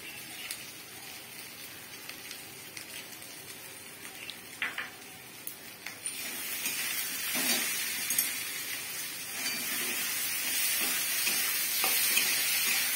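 Fish masala for a silver carp curry is stirred and sautéed in a pan, a soft sizzle with scattered scraping and clinking of the spoon that grows into a louder, steady frying hiss in the second half.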